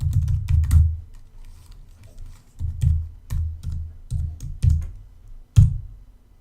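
Password being typed on a computer keyboard during a Sass install: close, irregular clusters of key clicks in short bursts with brief pauses, no voices.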